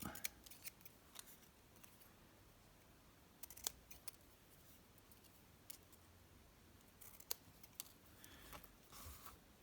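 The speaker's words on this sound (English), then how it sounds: "I can just cut it down to size and straighten the edge up" Scissors snip through scrap paper being trimmed to size, quiet close clicks and crisp cuts scattered irregularly across a soft background.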